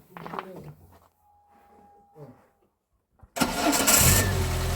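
A 1996 Renault Twingo with an injection engine cranks and catches with a sudden loud roar near the end, settling into a close, rough running note after a quiet stretch of low voices talking.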